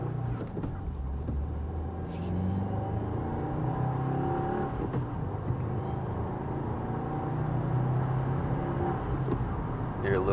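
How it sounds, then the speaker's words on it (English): A 2024 Subaru WRX TR accelerates on the road, its turbocharged engine droning and rising in pitch under a steady cabin rumble, with faint whirring and someone talking intermittently over it. "Hear a little bit of the turbocharger."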